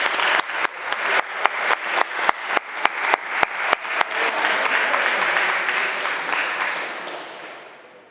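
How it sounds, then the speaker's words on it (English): An audience at a school prize day applauding a winner, with sharp rhythmic claps at first, then a dense wash of clapping that builds and slowly fades, loud and alone without voices. "A round of applause for Anna, please."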